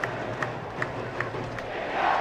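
Cricket crowd of English and Indian fans cheering at a Test match at The Kia Oval, a broad, steady roar with faint rhythmic accents that swells louder toward the end.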